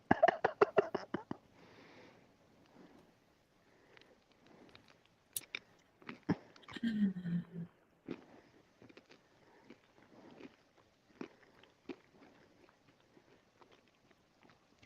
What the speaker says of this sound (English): do you hear me chewing?